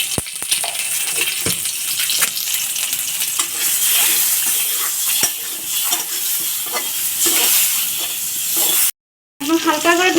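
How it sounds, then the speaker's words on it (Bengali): Peeled boiled eggs seasoned with salt and turmeric fry in hot oil, a dense, continuous close sizzle with crackles and light utensil scrapes, cut by a brief silent gap near the end; no speech. "ডিমগুলোকে খোসা ছাড়িয়ে নিয়েছি, এবার তেলে ভেজে নেব"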